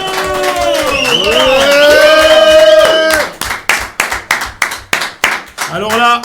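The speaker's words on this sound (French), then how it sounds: "On applaudit s'il vous plaît Monsieur Claude, Monsieur Roland Rabat et Lo" Audience at a French variety show breaks into rhythmic clapping in time after a singing voice ends, loud and close, with cheering mixed in at the end.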